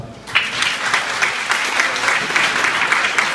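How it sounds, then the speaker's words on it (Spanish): An audience at an evening event applauds in honor of a doctor, with loud, sustained and even clapping after a short quiet start. "Este es el aplauso que se merece"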